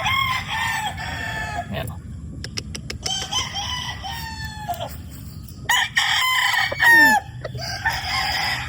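Roosters crow repeatedly over clucking hens in a yard of fighting-cock stock, the long rising calls overlapping one another at close to medium range, with a low steady rumble of background noise throughout.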